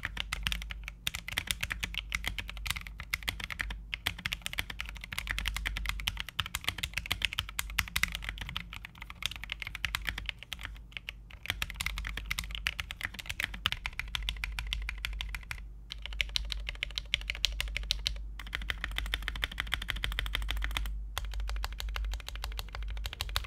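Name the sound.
typing on mechanical keyboard, SA keycaps, lubed Cream switches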